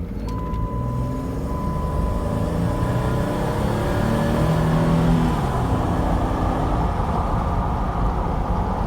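A 2008 Jeep Commander Limited with the 3.7-liter V6 pulls away on a test drive, its engine drone steady and building slightly in a continuous cabin hum with rising tones, no talking.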